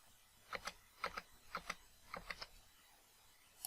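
Computer keyboard keys are pressed in quick paired clicks during a Spring Boot coding session, about five short bursts of crisp, close tapping over a quiet room.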